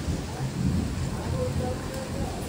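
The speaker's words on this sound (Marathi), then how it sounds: "आणि मस्त पाऊस लागलेला आहे." Steady rain hisses throughout, a dense even patter with a low rumble underneath.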